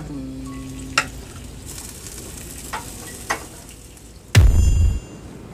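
Chicken wings frying in a pan over high heat, a steady sizzle with a few clanks of a utensil and a sudden loud burst of hissing near the end, close and alone.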